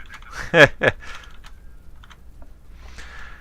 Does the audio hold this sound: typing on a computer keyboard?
yes